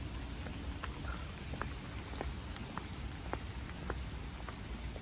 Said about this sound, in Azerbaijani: Aslında mən yağışlı havada gəlmişəm.